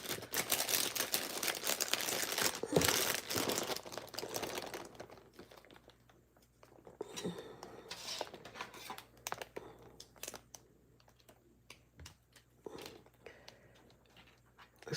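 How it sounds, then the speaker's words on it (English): Sticky tape handled and pulled from a box during a DIY craft project, heard as close crinkling, rustling and tearing noises that are busy at first, then thin out into scattered soft handling sounds. "let me get my box back and take my sticky tape out"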